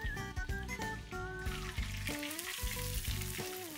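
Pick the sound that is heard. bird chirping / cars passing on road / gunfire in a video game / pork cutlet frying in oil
pork cutlet frying in oil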